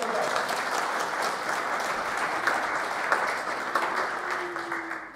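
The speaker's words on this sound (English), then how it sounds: "Should we give them a round of applause?" Congregation at a Salvation Army church service applauds, a sustained, even round of clapping from a gathered audience indoors, fading slightly at the end.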